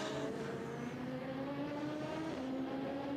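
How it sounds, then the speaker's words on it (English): Porsche race car at the 24 Hours of Le Mans, a distant engine drone rising and falling in pitch as the car approaches and passes, steady and fairly faint. "Porsche is about to appear though, isn't it?"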